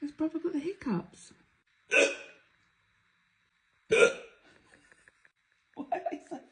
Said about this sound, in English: He's got the hiccups.